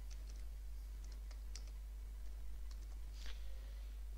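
Typing on a computer keyboard while entering a command in the Windows command prompt, a few quiet scattered key clicks over a steady low hum.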